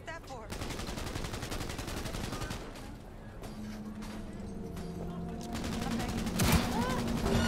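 Rapid gunfire in Cyberpunk 2077 rattles out in fast automatic bursts and single shots, close and loud, with a voice talking at times over the shooting.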